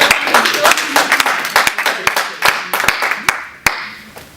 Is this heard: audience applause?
yes